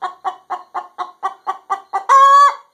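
A one-legged hen clucks after laying an egg, ten steady rhythmic clucks ending in a drawn-out squawk, loud and close with nothing else around.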